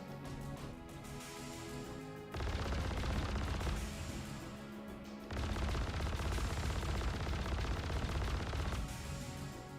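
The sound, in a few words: guns firing in a video game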